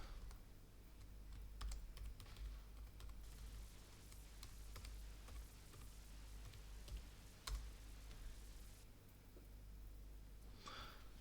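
Typing on a computer keyboard, with quiet, irregular key clicks and occasional sharper taps going on for about eleven seconds at low volume.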